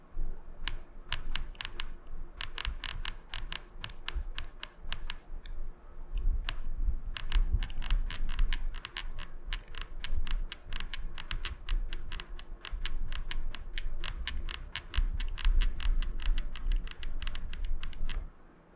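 Someone types steadily on an AulaStar F68 keyboard, producing a dense stream of crisp, close key clicks with brief pauses and a soft low thump under the keystrokes, without any talking.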